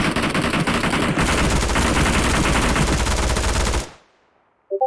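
Sustained automatic gunfire from the mobile battle-royale game PUBG Mobile fires loud and continuous for several seconds, then cuts out abruptly into near silence before a brief electronic chirp.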